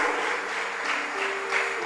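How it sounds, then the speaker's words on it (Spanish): Church congregation clapping in worship, a steady wash of applause at moderate level, with a sustained musical tone rising beneath it. "Dele un aplauso, hermano"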